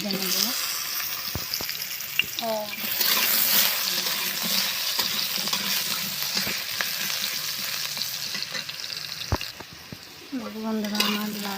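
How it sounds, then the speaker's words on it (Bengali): Potatoes fry in hot oil, producing a loud, continuous crackling sizzle with intermittent stirring scrapes and a few utensil knocks, while brief bits of voice come through near the start and end. "এবার আলুগুলো তেলে দিয়ে দেবো। এবার আলুগুলো আমি লাল লাল করে ভেজে নেব।"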